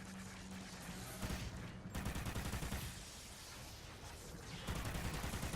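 Light machine gun fire in the video game Call of Duty Ghosts Extinction, heard as several loud bursts of rapid automatic shots with brief pauses between them.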